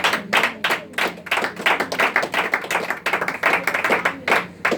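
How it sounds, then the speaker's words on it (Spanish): A church congregation claps hands loudly and rhythmically in a steady, fast, continuous beat, greeting Christ during a worship service. "Démosle fuerte palmas al Cristo de la gloria"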